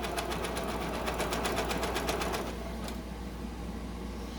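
A sewing machine stitches a polyester face mask tube, its rapid needle rattle running steadily up close before stopping abruptly, leaving a faint hum and a single brief tap.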